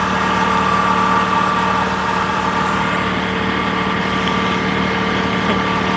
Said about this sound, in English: This is the last tractor my son bought.